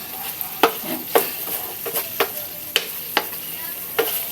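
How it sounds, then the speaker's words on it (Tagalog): Spicy chicken with a little sugar is stirred in a pan over a steady background sizzle, with repeated sharp scrapes and clicks of the spoon against the pan at irregular intervals. "Ihalo natin ng maigi."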